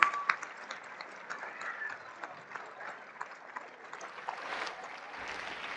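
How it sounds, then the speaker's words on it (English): Applause from an audience in a high school gathering for a coach's award, a fairly quiet, steady patter of clapping heard from a distance without talk over it. "Let's give her a round of applause."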